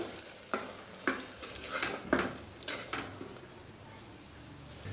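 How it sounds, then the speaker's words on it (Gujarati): A spoon scrapes and stirs through a thick spice paste in a pan, several distinct strokes over a quiet, continuous sizzle of frying. "ફરી આપણે બધું જ મિક્સ કરી અને બેથી ત્રણ મિનિટ માટે આ પેસ્ટને આ જ રીતે ચડવા દઈશું"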